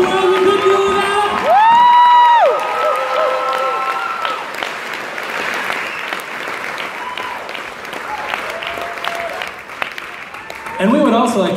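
A concert audience at the Fargo Theater breaks into loud applause and cheering for the crew. Dense clapping swells after a sung note and continues steadily, with whoops mixed in.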